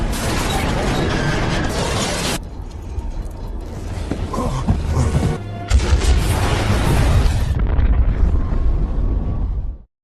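In a film scene, a car dropped into an elevator shaft sets off an explosion: a loud, dense roaring blast with rumbling debris, a sudden cut midway, then another heavy booming swell and crackle that fades out.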